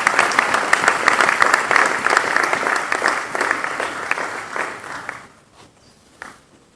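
A church congregation applauds with dense, loud sustained clapping that fades out after about five seconds, followed by a few scattered claps near the end.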